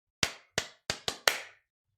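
Five sharp, close hand claps ring out alone in a quiet room, the first two evenly spaced and the last three coming quicker.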